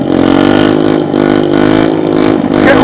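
A dirt bike, likely on fresh new plastics, revs hard and steadily through a wheelie, its engine tone loud and close as it climbs and holds pitch with slight wavers.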